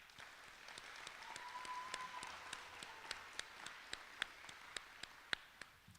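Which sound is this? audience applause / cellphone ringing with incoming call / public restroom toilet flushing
audience applause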